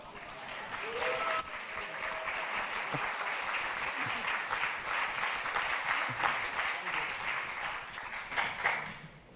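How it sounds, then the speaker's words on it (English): Audience applause at a Berlinale press conference for the film So Long, My Son: sustained, fairly loud clapping from a room of people, continuous throughout with scattered sharper claps and faint voices mixed in. "thank you for your applause and the answers that you have shouted out"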